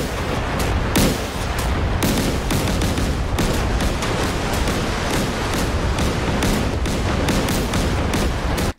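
Warship 5-inch guns firing in a naval battle video game, a rapid barrage of loud booming shots in irregular succession over a constant heavy rumble.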